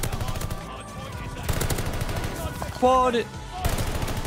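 StG assault rifle fire in Call of Duty Vanguard, rapid bursts crackling through a busy multiplayer match, with a louder close volley near the end while players talk over it.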